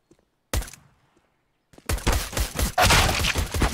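Gunfire during a Counter-Strike match on the Nuke map, a sharp single shot after silence, then a loud rapid burst of shots and impacts building to a dense close volley, with no talk.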